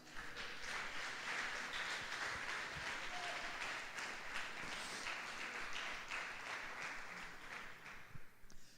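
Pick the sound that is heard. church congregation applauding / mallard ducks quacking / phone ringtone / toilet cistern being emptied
church congregation applauding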